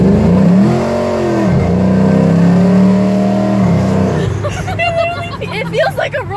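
A Chevrolet Camaro launches and accelerates hard, a loud rising engine drone climbing steadily in pitch for several seconds, then giving way to chatter and excited voices from inside the car.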